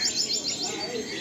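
Chirping bird calls from pigeons kept in a pigeon loft at Salt Lake, a steady run of short, bright, repeated notes close by.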